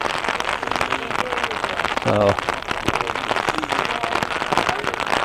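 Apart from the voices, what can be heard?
rain falling during a softball game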